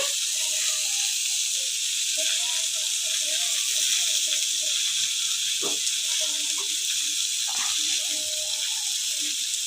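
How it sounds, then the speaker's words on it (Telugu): Bitter gourd fries in a pan on a gas stove with a continuous sizzling hiss close by, and faint voice-like sounds drift under it. "నేను గ్యాస్ మీద వేయించుతున్నా ఇట్లా కాకరకాయలు"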